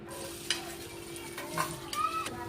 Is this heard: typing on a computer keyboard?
no